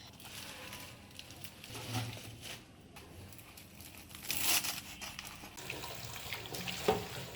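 Spinach leaves are washed under a running tap, with a continuous soft rush of water mixed with crinkly rustling and light splashes from the leaves, close and fairly quiet.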